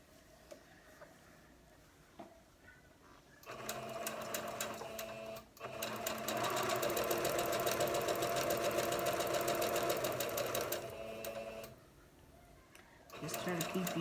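Sewing machine back stitching quilt blocks for a Cathedral windows quilt block, with a steady rapid mechanical whir running for several seconds, pausing briefly, then resuming, stopping again and restarting near the end.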